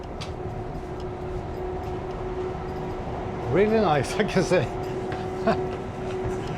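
Steady low rumble of a Swedish passenger train idling at a station platform, with a constant hum and a person talking partway through.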